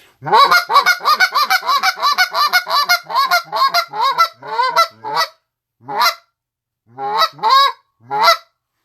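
A voice imitates geese honking: a quick run of nasal honks in steady rhythm, then slower, spaced calls that trail off.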